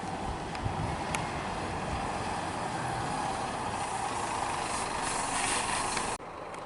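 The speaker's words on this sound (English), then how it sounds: "we've got a bus arriving now" A Route 42 bus to Geelong pulls into the Waurn Ponds bus terminal, its engine making a steady, broad idling rumble that holds for several seconds and then cuts out sharply near the end.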